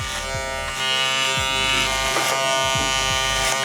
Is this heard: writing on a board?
no